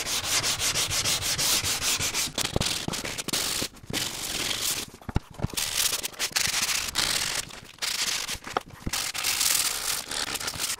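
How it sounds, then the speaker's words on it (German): Framed wooden cabinet doors for a traditional joiner's tool cabinet are hand-sanded with 120-grit paper: loud, close, rhythmic rasping strokes with short pauses between passes. "So, jetzt schleife ich noch alles nach. Was ist das? 120,"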